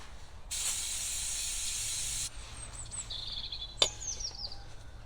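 A long, loud burst of aerosol spray hisses onto the binding rear brake of a Mk4 Golf, then short fainter sprays follow along with a sharp clank, with no talking over it.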